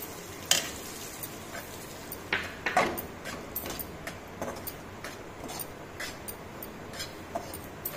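Rajgira flour roasts in hot ghee on a full flame, a soft sizzle beneath irregular scraping and tapping strokes of a spoon against the pan.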